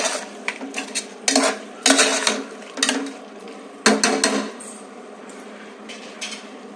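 A spoon scrapes and clanks against a pot while chicken biryani is being mixed, giving a run of loud metallic knocks and scraping strokes at an uneven rhythm, close by, with no talking.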